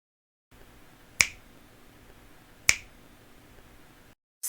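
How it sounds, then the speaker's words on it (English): Two crisp, isolated finger snaps about a second and a half apart, each sharp and close, with a faint room hush between them and nothing else around. "Snap. Definition: a sudden sharp sound made by fingers or breaking objects."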